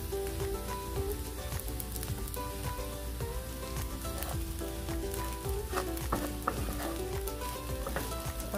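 Sinangag fried rice sizzles and crackles steadily in a pan, with a close, continuous frying hiss and scattered stirring scrapes and clicks.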